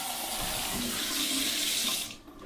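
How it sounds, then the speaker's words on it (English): Running tap water splashes steadily over freshly peeled prawns in a sink for about two seconds, then shuts off abruptly, leaving quiet room tone. "So I'm just going to give them a quick rinse"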